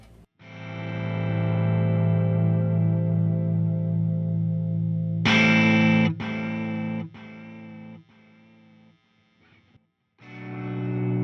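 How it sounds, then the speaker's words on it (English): Electric guitar through a swell delay on a Fender Tone Master Pro: notes fade in smoothly and sustain with echo and chorus-like shimmer, followed by sharper picked chords and trailing repeats. "so here's the swell delay. Here's what it sounds like straight out of the box"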